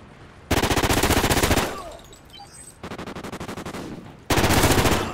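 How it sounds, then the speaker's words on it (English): Automatic gunfire in the Call of Duty Vanguard video game: three loud sustained bursts of rapid machine-gun shots separated by short pauses, close and punchy, with faint game sounds between. "I just shot his teammate in the back."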